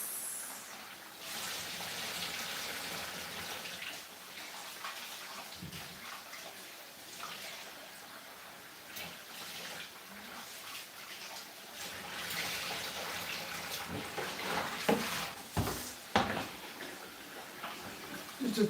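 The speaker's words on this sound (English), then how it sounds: "That's how I wash rice" Rice being washed in water sloshes and swishes steadily at close range, a continuous watery rush with occasional small clinks and splashes toward the end.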